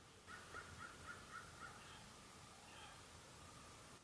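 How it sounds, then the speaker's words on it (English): A crow calling faintly in the distance outdoors, a quick run of about six short caws in steady rhythm, then fainter calls over a soft hiss. "Did y'all hear that bird? I think it's a crow."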